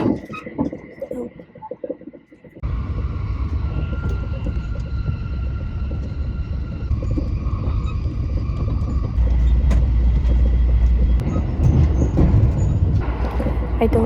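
Interior of a train in Japan heading toward Fukui, a steady low rumble that grows louder midway and holds as a continuous drone, with faint tonal hum above, no clear voices.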